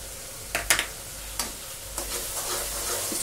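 Garlic and ginger paste frying with masala in a pan, cooked as part of a soya chaap gravy, makes a steady low sizzle broken by a few soft stirring scrapes, close by with no talk.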